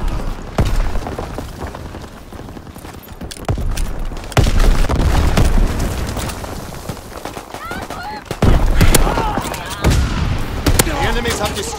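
An explosion destroys an ammo supply during a Call of Duty: WWII match on Xbox One, with loud booms and gunfire over dense battle noise, and voices heard through the chaos.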